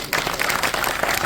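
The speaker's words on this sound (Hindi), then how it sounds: "तालियां।" Audience applause at the Jagran Film Festival at a mall, a dense steady wash of many hands clapping for a Bollywood actor, close and continuous without a break.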